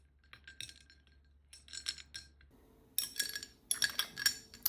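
Glasses clink together in a toast over a coffee drink sweetened with hazelnut syrup, making several bright, close clinks in small clusters, with a louder burst of repeated clinking toward the end.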